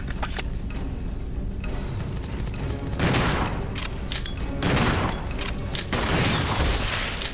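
Shotgun blasts from the video game Resident Evil Zero, several loud booming shots spaced a second or so apart over a dense game soundtrack and ambience.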